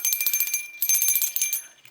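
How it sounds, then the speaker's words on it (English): A small hand bell is shaken during a tarot card reading, giving rapid, bright tinkling strikes that ring in two bursts and fade at the end, close and alone. "Okay, got this bell here."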